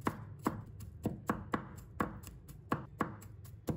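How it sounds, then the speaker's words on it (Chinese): A knife chopping garlic on a cutting board, slicing then mincing, with about a dozen crisp, evenly spaced taps close up over a low background hum, no talking. "再准备1把大蒜，把它切成片， 再切成末"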